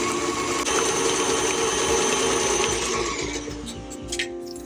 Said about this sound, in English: we can add in our egg as well as our vanilla extract and keep beating until they are fully combined.